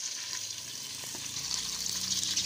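Onions fry in a pan for daal toori, giving a soft, steady sizzle with faint stirring clicks close by and no talking.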